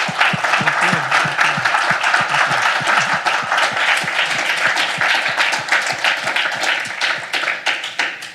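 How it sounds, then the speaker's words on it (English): Applause from a lecture audience at an art museum critics' lecture series, dense sustained clapping from many people, loud and even, with individual sharp claps audible within the wash and tapering slightly at the end. "Can we get another round of applause for Mr. Cole?"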